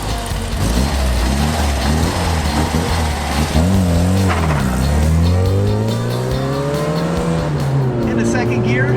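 Race car engine revving and shifting through gears on a track during a driving lesson, rising and falling engine tones with tire noise, while people talk over it throughout.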